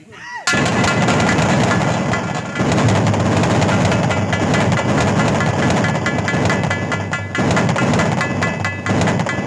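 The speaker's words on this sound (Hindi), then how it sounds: "अमृत, भवानी सिंह ने मुझे गोली मार दी।" A gunshot sound effect during a live nautanki folk theatre performance, a sudden loud crack that opens into a sustained, roaring wash of amplified stage noise lasting several seconds.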